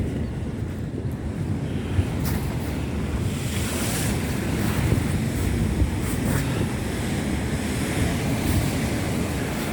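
Ocean waves roar continuously onto Goodrington Sands beach near Paignton, a loud, steady wash of surf with wind buffeting the microphone throughout.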